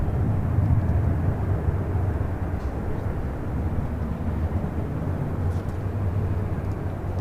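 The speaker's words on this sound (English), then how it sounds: "Asiana Airlines Flight 201, the A380 Super, also heading back to Seoul, pushing back from the gates" A large four-engine Asiana Airlines Airbus A380 pushing back from the gate at Tom Bradley terminal at LAX, a steady low rumble of idling jet engines and ground equipment droning on without a break, fairly distant and even in level.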